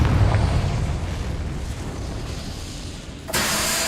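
A Confringo fire spell explodes in the Hogwarts Legacy video game, a loud low rumbling blast that decays over several seconds before a sharp hissing burst near the end.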